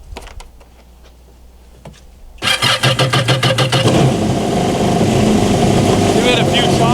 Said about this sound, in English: I'm going to turn on the machine first, take all the water out of the engine